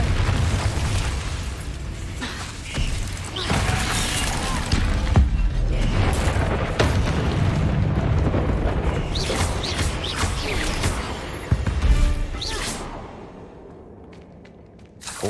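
Fire-curse blast from a Confringo spell in a Harry Potter video game, heard as a sustained loud booming roar with repeated bursts over about fifteen seconds, fading near the end.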